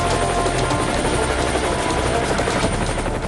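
A light combat attack helicopter flies close and loud, its steady rotor thump and turbine whine filling the whole span without a break.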